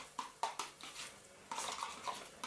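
A spoon clinks and scrapes against a bowl while dipping sauce ingredients, including chili sauce, are stirred together, giving light, irregular taps and brief rattles, close and fairly quiet, with no talking.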